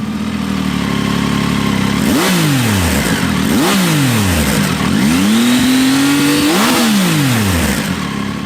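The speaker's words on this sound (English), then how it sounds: "every time you shift down and give it a little blip, it's just such a nice sound. I've got a Scorpion slip-on on this bike and it sounds brilliant" A Triumph Tiger motorcycle fitted with a Scorpion slip-on exhaust revs loudly and close, with quick throttle blips whose pitch rises and falls on downshifts over a steady engine roar.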